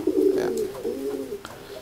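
Competition songbird kept as a pet cooing at close range, a low throaty drawn-out coo followed by softer trailing notes, with no talk over it.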